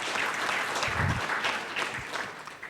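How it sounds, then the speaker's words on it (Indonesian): A crowd claps in a dense burst of applause at an online church service, steady and lively throughout, with no one speaking. "berikan tepuk tangan meriah buat Tuhan kita"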